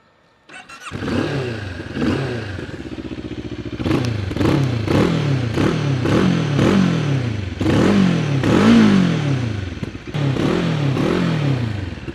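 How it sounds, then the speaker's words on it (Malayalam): A Moto Morini X-Cape 650 motorcycle starts and idles. Its exhaust then barks through a series of repeated throttle blips, loud and close, with a rough, throbbing note between revs. "ഇതിൻ്റെ എക്സോസ്റ്റ് നോട്ടൊന്ന് കേട്ട് നോക്കാം."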